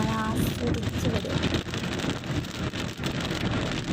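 Rain falls steadily in a rural village, a dense close wash of drops on surfaces that stays loud throughout, with voices talking over it.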